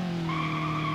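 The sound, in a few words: front-wheel-drive burnout tire squeal, Ibishu Covet in BeamNG.drive video game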